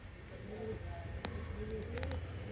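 A male Punjabi pigeon coos in a dim, enclosed breeding room. Its low, throaty coos repeat softly at close range over a steady background hum, with a few sharp clicks.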